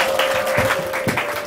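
Applause from a crowd at a funeral gathering in Kenya, a steady wash of hand claps filling the whole moment, with a sustained tonal note running through it.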